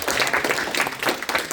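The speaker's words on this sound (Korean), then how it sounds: "다시 한번 격려의 박수 부탁드리겠습니다" A church congregation claps in encouragement, giving a dense, loud burst of many hands that continues without pause through the short stretch.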